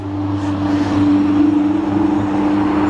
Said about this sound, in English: A beautiful Ferrari going by.